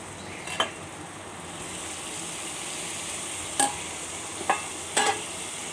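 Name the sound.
stirring boiled vegetables into semolina upma in pan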